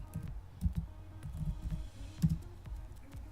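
Quick bursts of keyboard typing on a computer, with several short clusters of soft keystroke clicks close by, spread over a few seconds in a quiet room.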